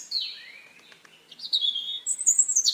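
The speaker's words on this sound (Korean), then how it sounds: "봄의 새소리를 듣고 이 더하기 버튼을 톡 눌렀어요." A spring birdsong sound effect added in CapCut plays as clear, close chirps and whistled tweets, with sliding high notes and a brighter burst of rapid calls near the end.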